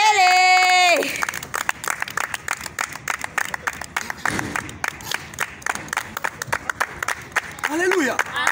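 A church congregation claps together in steady, dense applause through most of the stretch, with a preacher's voice and singing-like tones at the start and end of a French-language prayer service.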